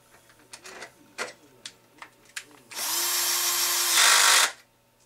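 A few light taps and clicks, then a power drill whines in one loud burst of about two seconds while driving screws into the top front plate of a Baja 5T RC car, stopping abruptly.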